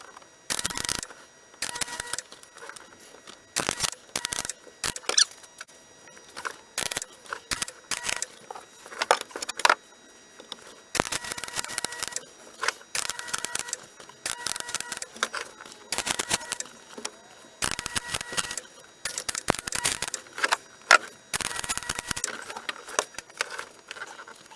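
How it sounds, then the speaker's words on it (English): Rusty floor panel in the rear footwell of a Geo Tracker being welded, bursts of crackling, spitting arcs in irregular runs separated by short silences, close and fairly loud. "let's start welding."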